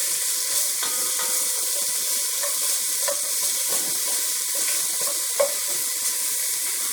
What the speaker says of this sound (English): I love sauteing onions.